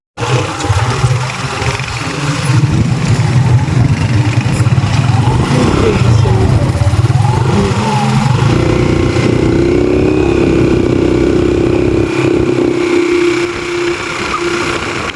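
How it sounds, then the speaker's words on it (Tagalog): A motorcycle carries a rider along a road in Estancia, Iloilo, its engine roaring steadily and close with slight shifts in pitch, wind buffeting throughout. "sakay na ako ngayon ng motor papunta sa bahay ng tita namin"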